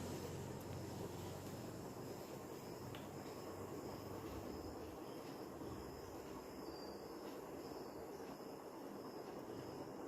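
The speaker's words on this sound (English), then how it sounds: "This is blower, as you can feel that air is coming out." A homemade battery-powered blower fan runs with a steady, even broadband whoosh of rushing air, constant in level and with no breaks throughout.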